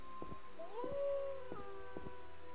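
A dog howls in a cutscene from The Witcher video game, a few rising, wavering howls standing out over a faint game soundscape, with short sharp sounds punctuating the howls.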